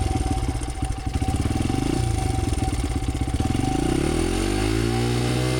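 A $300 Honda dirt bike engine running close by, a steady loud putter with rapid regular firing pulses that rises slightly in pitch near the end as it revs.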